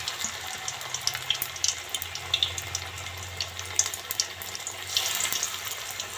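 Mustard flower fritters are dropped one by one into hot oil in a wok, producing a bubbling, crackling sizzle with small bursts that swell near the end.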